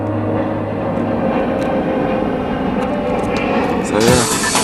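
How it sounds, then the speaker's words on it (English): Airplane passing over a lake while kayaking: a steady, moderately loud engine drone fills the background throughout, with faint water splashes and a brief knock near the end. "there's an airplane."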